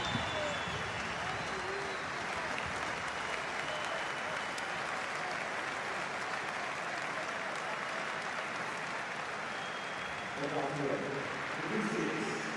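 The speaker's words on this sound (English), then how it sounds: "Rodriguez being stretchered off, but warm applause here at the Alm" Stadium crowd at a DFB Pokal quarter-final between Arminia and Werder, giving warm, sustained applause as an injured player is stretchered off: a broad, distant wash of clapping that runs steadily throughout, with a commentator's voice over it near the end.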